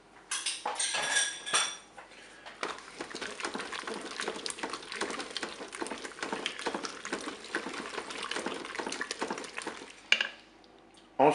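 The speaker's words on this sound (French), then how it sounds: "maintenant je vais ajouter ma crème fraîche. Je vais mélanger." A spoon scrapes and clinks against a Cookeo multicooker pot while crème fraîche is mixed into cooked potatoes and knackis, with continuous close stirring and clatter.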